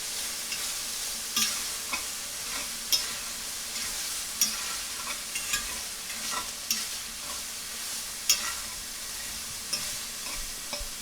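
Chicken pieces cook in a pan with a faint, steady sizzle, broken by light, irregular taps and scrapes of stirring.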